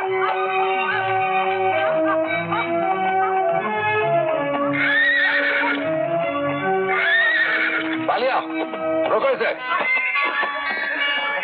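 A horse whinnies loudly in a 1988 Hindi film scene, its rising and falling neighs repeating several times over a dense bed of orchestral music.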